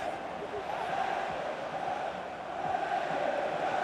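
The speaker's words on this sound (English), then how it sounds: "Being egged on by the crowd." A stadium crowd roars and cheers steadily throughout a simulated England versus France match in the FIFA video game, a dense, continuous wash of noise with no pauses.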